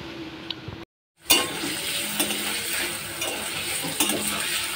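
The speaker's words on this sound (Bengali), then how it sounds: "পনির ভাজছি এখন পনিরের তরকারি করব" Paneer fries in a pan, a steady close sizzle with stirring scrapes and light clinks of utensil on metal, briefly cut to silence near the start, with no voices.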